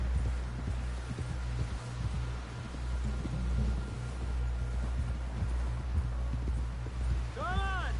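Rhythmic hoofbeats of a horse at a steady pace in Red Dead Redemption 2, over a low ambient hum, with a short whinny near the end.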